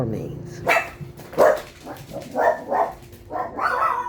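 Several dogs bark indoors in a series of loud, uneven woofs and yips, mixed with a person talking nearby.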